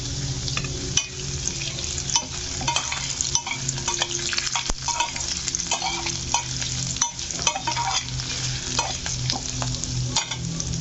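Green chillies, ginger pieces and garlic frying in a pan, a close, continuous sizzle broken by frequent clicks and scrapes of stirring, with no voices.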